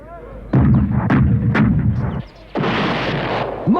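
Cannon and musket fire from an 18th-century battle in The Last of the Mohicans rolls out as a loud, booming volley of overlapping shots, followed by a brief lull and a second sustained roar of gunfire.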